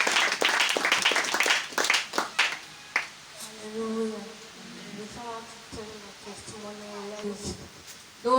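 An audience claps in a church after a testimony: a brief burst of lively applause that quickly fades as a voice begins speaking over a soft, tonal background.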